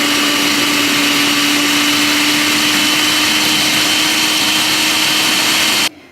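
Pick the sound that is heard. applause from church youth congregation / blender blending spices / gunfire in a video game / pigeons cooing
blender blending spices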